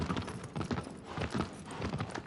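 A horse galloping in the video game Shadow of the Colossus, with rhythmic clip-clop hoofbeats in quick repeating groups, moderately loud and close, running steadily throughout without speech.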